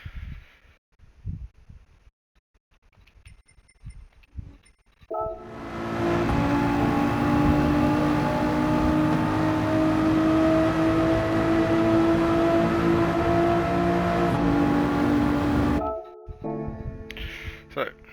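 A car engine held at full throttle through a left turn, a loud sustained roar with steady harmonic tone lasting about ten seconds, framed by quieter moments with faint talk before and after.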